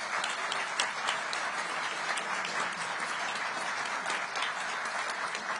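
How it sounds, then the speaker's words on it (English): A crowd at a US Energy Secretary press announcement of a fusion energy breakthrough claps steadily, a continuous, even roar of applause with no break and no voices over it. "Big applause and thank you to the NNSA, the National Nuclear Security Administration."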